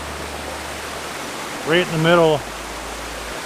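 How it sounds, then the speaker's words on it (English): A small waterfall and a flowing stream outdoors make a steady broadband hiss like pink noise that runs throughout, with someone speaking briefly over it partway through. "2 nice little tails coming down the waterfall, and the stream flows all the way around."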